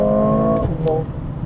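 A 2020 Mercedes CLA 45 AMG launches hard without launch mode on non-summer tires. A loud, close engine note holds steady and then drops sharply as it shifts up a gear.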